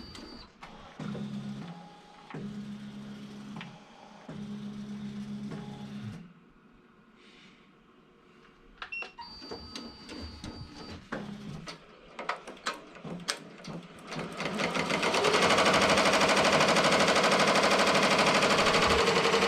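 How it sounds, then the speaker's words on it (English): An embroidery machine starts up to stitch a hat design, with rhythmic mechanical whirring and clicking in short repeated bursts. A pause follows, then more clatter, and finally a loud, steady running drone. "first let's start the embroidery machine"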